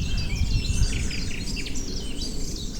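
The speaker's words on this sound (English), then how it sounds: "blackbirds, chiffchaff," Small woodland birds, blackbirds and chiffchaffs among them, sing in an Essex woodland during a heat wave, several bright overlapping phrases over a low background rumble.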